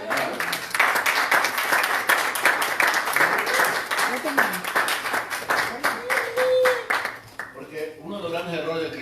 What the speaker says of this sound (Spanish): Dale la aplauso.